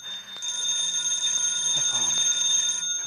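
A telephone rings in a radio drama, a shrill metallic bell clattering steadily for a few seconds on its own, close and fairly loud, then cutting off.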